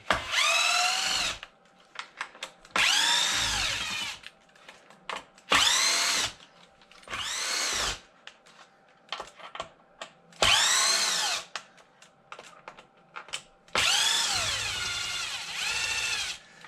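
A power drill backs screws out of a Traxxas XRT RC truck in short whirring bursts, about seven separate runs with quiet pauses between, close and fairly loud.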